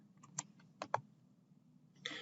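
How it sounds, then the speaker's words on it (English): Computer keyboard keys, Shift held while arrow keys are tapped to nudge a shape, giving a few soft, sparse clicks in a quiet room followed by a brief faint burst at the end. "hold down Shift, and then do the arrow keys"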